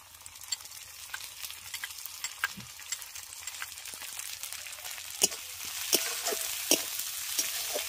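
Ground ginger, garlic and dried chilli fry in oil, making a continuous close sizzle punctuated by sharp spatter pops and stirring scrapes that grow busier and louder toward the end, with no speech.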